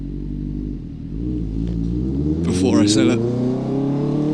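A Honda CB600F Hornet rides through London, its engine a steady close rumble that rises slightly in pitch as it accelerates, with someone talking over it.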